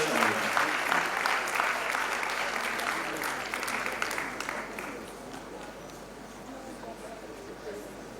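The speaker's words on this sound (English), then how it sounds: "Please keep clapping." A large conference audience gives an award winner at the WAEC conference in Freetown, Sierra Leone sustained applause, loud and dense at first and gradually thinning, with voices mixed in.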